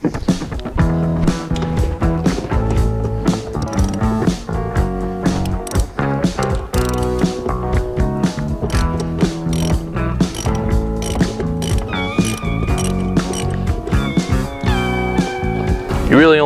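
A wrench ratchets in rapid, clicking bursts while loosening the front seat bolts in a Foxbody Mustang, loud and close, the pawl clicks repeating in quick runs with short pauses throughout.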